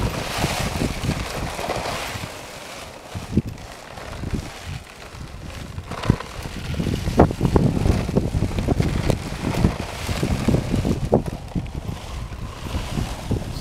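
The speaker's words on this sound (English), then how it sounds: "I think this is about a 15-mile-an-hour wind." Gusty outdoor wind of about 15 mph drives a wind-powered rock tumbler made from two bottles holding small rocks, heard as a steady close rush of wind buffeting the microphone with a few faint knocks and clicks.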